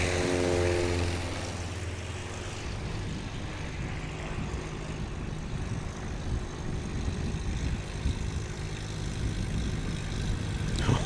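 A small propeller airplane takes off during short-takeoff-and-landing practice at Creswell, Oregon, its engine a steady, moderately distant broadband drone that swells slightly toward the end, with no talk over it.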